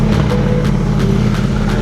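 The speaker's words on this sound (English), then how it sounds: "that bike is loud." A loud motorcycle engine roars steadily nearby, its deep rumble filling the whole moment without letting up.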